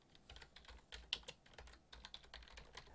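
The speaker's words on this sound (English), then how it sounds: "And just start typing." A computer keyboard is typed on in quick, irregular bursts of soft key clicks, close and fairly quiet, continuing for about three seconds with no talking.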